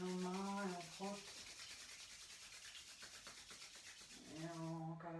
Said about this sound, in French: On joint nos mains et on frotte.